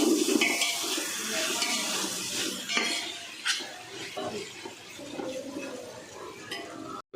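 Roughly cut tomatoes stirred into a pan of beef biryani masala, with a low sizzle, scraping stirs and a few clinks of a utensil against the pot; close and moderately loud.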